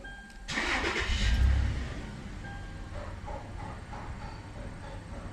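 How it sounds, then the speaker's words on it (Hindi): A Toyota Land Cruiser engine is started after an airbag warning light repair: a brief starter crank catches and the engine runs up loud, then eases into a steady idle hum that continues to the end. "एक दफ़ा फिर आपको गाड़ी बंद करके स्टार्ट करके चेक करवा देता हूँ।"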